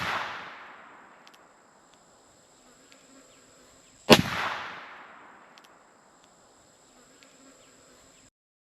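Two sharp revolver shots fired into a ballistic test target, four seconds apart, each a loud crack that rings out and decays into a long outdoor echo, with quiet insect buzzing between.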